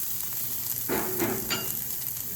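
Frozen hash browns hit a hot Blackstone griddle with a steady, quiet sizzle, swelling into a few brighter crackling bursts partway through before settling back to an even hiss.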